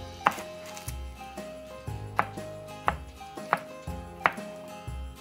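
Knife chopping garlic on a cutting board, crisp regular taps about once every half second, close and clear over a faint background hum.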